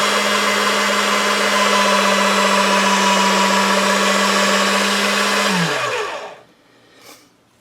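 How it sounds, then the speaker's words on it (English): A hand-cranked or motorized pasta machine rolling polymer clay thin at its thinnest setting, number 9, gives a loud steady mechanical drone with a constant hum that winds down and stops near the end. "I'm going to go all the way to a number 9, which is the thinnest on my pasta machine."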